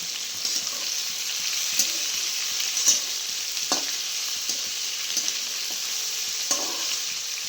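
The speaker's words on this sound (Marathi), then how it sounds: "आता टाकते भेंडी. मिठाची करणारी भेंडी." Okra frying in a pan gives a steady, bright sizzle throughout, broken by occasional soft clinks and stirring knocks, with no talking.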